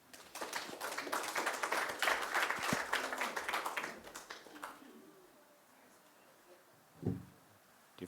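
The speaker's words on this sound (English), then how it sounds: "Big round of applause for Milan Ruka." An audience applauds for Milan Ruka at a community gathering, a burst of many hands clapping that swells for a few seconds then fades out, followed by a quiet room and a single thump.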